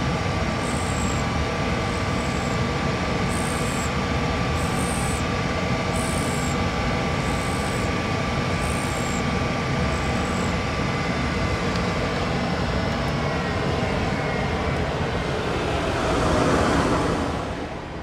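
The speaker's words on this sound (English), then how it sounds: "Now that I'm grinding on both surfaces, I'm going to infeed just a little" A center drill's edges being freshened on a grinder with a light infeed, a steady loud grinding hum running the whole time with a periodic high whine, swelling briefly near the end.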